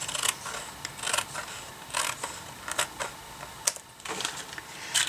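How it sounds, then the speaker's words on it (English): Crisp, irregular snips of scissors trimming cardstock for a Christmas card, close and fairly quiet, with short pauses between cuts. "a little bit here that I'm going to trim with scissors"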